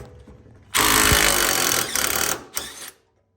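Power tool, likely an impact wrench, zapping a 17 mm bolt off the bottom of a car control arm: one loud sustained burst of about a second and a half, then a short second burst, close by with no talk.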